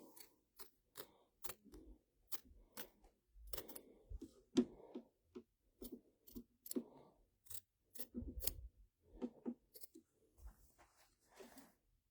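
Thread is snipped with scissors at an embroidery hoop in a series of sharp, close clicking snips spaced through the stretch, with quiet handling sounds between them and no talking.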